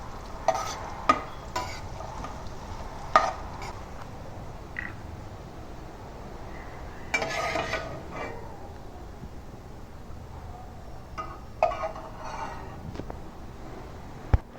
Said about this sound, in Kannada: ಗೋಡಂಬಿ ಫ್ರೈ ಆದಮೇಲೆ ದ್ರಾಕ್ಷಿ ಹಾಕಿ ಫ್ರೈ ಮಾಡ್ಕೊಳ್ಳಿ